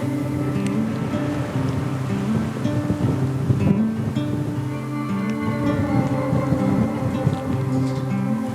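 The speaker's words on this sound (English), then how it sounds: "The wind is pretty strong. It keeps coming in and dying out, and it's swirling a little bit." Strong, gusting wind swirls across an open South Texas ranch during a deer hunt, a steady loud roar buffeting the microphone as it surges and eases.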